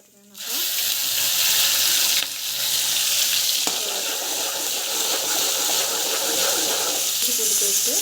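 Mustard seeds, cumin and biryani spices sizzle loudly in hot oil in a pan, a dense continuous crackling fry that starts abruptly and keeps going steadily.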